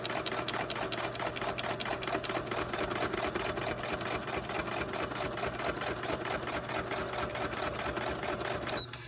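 A sewing machine stitches a pocket into a pink Christmas pocket notebook journal, its needle chattering in a fast, even, unbroken rhythm up close for several seconds before stopping abruptly, with no talking.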